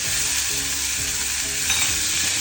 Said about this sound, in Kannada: ಸ್ವಲ್ಪ ಈರುಳ್ಳಿನೂ ಹಾಕ್ತಾ ಇದ್ದೀನಿ. ಅರ್ಧ ಸಾಕು ಈರುಳ್ಳಿ.